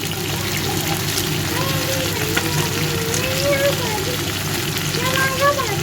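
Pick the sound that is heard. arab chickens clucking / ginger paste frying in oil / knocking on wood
ginger paste frying in oil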